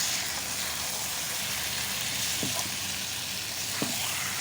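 Chicken being added to a pan of spice paste for a light chicken curry, giving a steady, fairly quiet sizzle with a couple of brief stirring clinks near the end.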